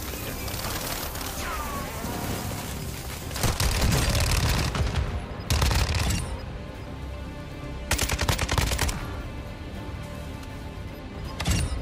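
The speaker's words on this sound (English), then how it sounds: "Guns fire." Rapid gunfire in Warzone 2, with bursts of automatic shots swelling into loud volleys among sustained game noise.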